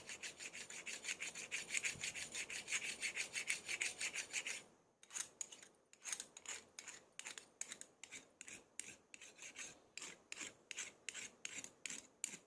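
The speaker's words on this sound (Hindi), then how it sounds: "ये नेल पेंट का पीछे का हिस्सा लेना है और इस कैंची की धार पे ऐसे घिसना है" A nail polish bottle's glass base scraped back and forth along a scissor blade to sharpen it, first as a fast continuous rasp, then as a series of separate rhythmic strokes, close and clear with no talking.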